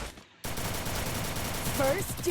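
Sniper gunfire from the Free Fire video game sounds as a rapid burst of close, loud shots after a brief silence, with a few sharp electronic effect tones near the end.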